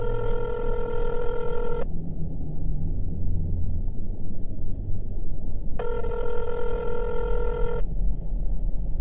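A telephone ring tone sounds on an outgoing call, two long electronic rings separated by a pause of several seconds, loud and clear over a steady low rumble.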